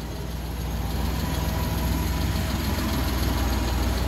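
A Suzuki F6A engine runs at a steady idle after a fuel pump and wiring repair. The low, even hum is close and moderately loud, with a faint rhythmic knock and no speech.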